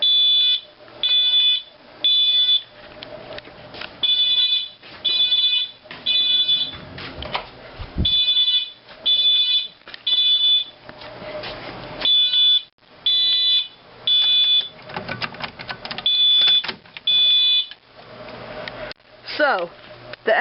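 A fire alarm multi-tone horn sounds during a system test, blaring loud repeated tonal bursts in a steady on-off pattern with short gaps, with a person talking faintly between some of the blasts.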